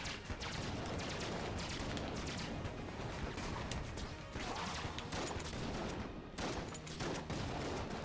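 Dense, rapid gunfire from the twin-stick shooter game Enter the Gungeon in multiplayer co-op, a loud continuous barrage of shots and blasts with brief lulls, no voices over it.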